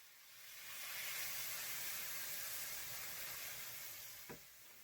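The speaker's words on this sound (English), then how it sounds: "Make sure your pan is hot when you're adding your tomato sauce." Tomato sauce poured into a hot pan of tortilla chips, a soft steady sizzle and hiss swelling in and holding, close and fairly quiet, with a small clink near the end.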